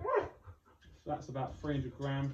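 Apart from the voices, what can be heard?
pet dog named Monty barking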